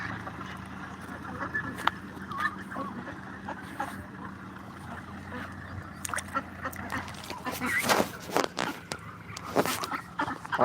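Ducks on a family's own duck farm quack in scattered, overlapping calls, some near and loud, with splashy movement and outdoor background noise.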